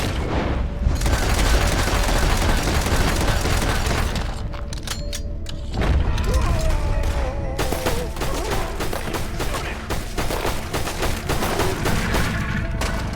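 Gunfire in Red Dead Redemption 2 during a night shootout, sustained rapid rifle and pistol shots with booming reports and clattering mechanisms, loud and close throughout, with a brief lull midway and little talk.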